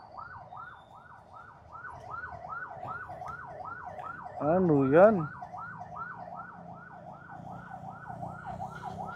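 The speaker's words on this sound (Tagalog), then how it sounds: "Ambulansya? Bakit yan?" An ambulance siren passes on a street in Calumpit, Bulacan. Its steady wail rises and falls in regular cycles all the way through, and a voice speaks briefly partway in.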